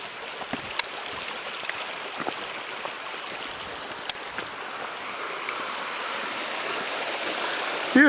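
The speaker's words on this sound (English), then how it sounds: "Beautiful creek." Creek water flowing steadily in Black Star Canyon on a hiking trail, a continuous broad rushing and babbling wash heard close and alone, with a few faint clicks over it.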